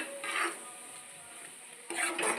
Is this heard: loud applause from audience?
no